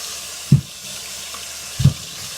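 Hot tap water running into a kitchen sink holding potatoes, a steady faint hiss of flowing water broken by two short low thuds.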